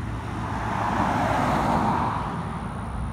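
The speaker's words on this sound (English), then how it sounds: "it's the bus" A bus pulling up to a stop outside, its engine a steady broad rumble with a little road noise, moderately loud and fairly even throughout.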